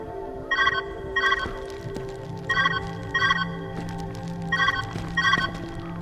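Telephone rings in the video game Viewfinder: three pairs of bright, trilling bursts come evenly spaced over a steady hum of background music.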